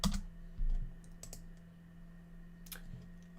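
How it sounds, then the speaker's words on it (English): A few faint, scattered clicks of a computer keyboard being typed on, with a steady low electrical hum underneath and no speech. "Oops, I hit something on my keyboard there."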